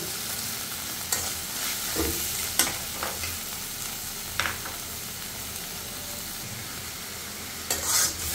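Spice masala of turmeric and chilli powder with salt frying in oil for a tilapia and eggplant curry, a continuous close sizzle with repeated scraping stirs of a spatula.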